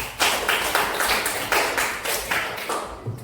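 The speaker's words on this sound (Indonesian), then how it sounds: "kasih tepuk tangan dulu untuk Fatir" A small group in a classroom claps for a student in a steady rhythm of short, evenly spaced bursts, fairly close and clear with no talking.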